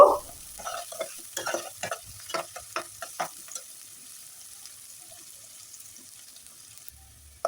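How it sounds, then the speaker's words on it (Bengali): Chopped onions fry in oil in a cooking pot, a steady sizzle under a run of close, rhythmic scraping stirs for about three seconds, then settling into quieter frying; no talking. "এখন পেঁয়াজ কুচি দিয়ে দিলাম পেঁয়াজটাকে হালকা বাদামি কালার করে ভেজে নেব"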